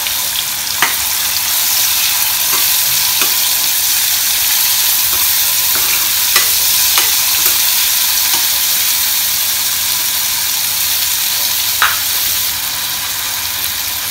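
Onion frying in oil in a pan for aloo kachori filling gives a loud, continuous hissing sizzle with occasional small clicks of stirring, heard alone without talk.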